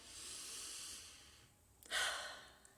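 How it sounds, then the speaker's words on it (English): One slow, deep breath drawn close to the microphone, a soft airy hiss that swells into a louder, fuller rush of air near the end, with no talking. "So take a deep breath."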